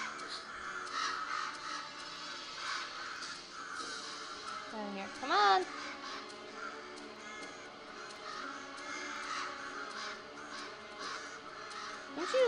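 Crows cawing in the video game Selma and the Wisp, a couple of harsh rising caw calls midway and one near the end, with a person talking over the game's steady background.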